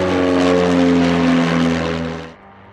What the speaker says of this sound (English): then a state-of-the-art aircraft is as noisy as this